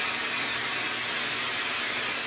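Temporary spray adhesive from an aerosol can misted onto embroidery stabilizer before hooping, a steady continuous hiss lasting the whole moment without pause.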